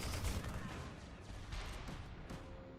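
A chain gun fires rapidly in the video game Tribes Ascend, giving a fast, sustained stream of gunfire bursts at low volume.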